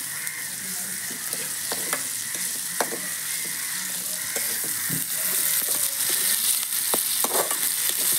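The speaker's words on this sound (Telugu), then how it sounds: "అల్లం వెల్లుల్లి పేస్ట్ ఏమో బాగా వేగుతుంది" Ginger garlic paste sizzles and spits in hot oil in a pan while prawn curry is being made, a steady close frying hiss broken by occasional pops and stirring scrapes.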